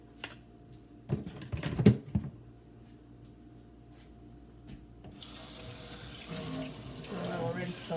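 Kitchen tap running while a pot is washed: a few clanks and knocks of the pot, then a steady stream of running water that swells louder near the end, with faint background noises.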